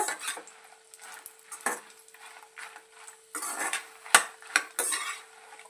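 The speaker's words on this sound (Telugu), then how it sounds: "ఇలాగా ఎండుమిరపకాయలు అనేవి ఫ్రై చేసుకుంటున్నానండి." Dried red chillies frying in a pan for a drumstick-leaf spice powder, stirred with a metal utensil: repeated scraping and clinking strokes in uneven bursts over a faint sizzle, close, with no talking.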